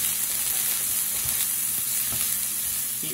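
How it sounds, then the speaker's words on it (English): Shrimp, scallions and peppers sauté in a hot pan with a steady, close hissing sizzle, while rubber tongs stir them with a few soft, dull bumps. "Add some rubber tongs so that you can stir them like a spatula."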